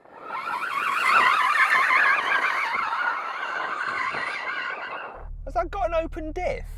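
Porsche Boxster GTS, rear-wheel drive, drifting with loud sustained wavering tire squeal for about five seconds, close and dominant, ending abruptly as a voice begins speaking.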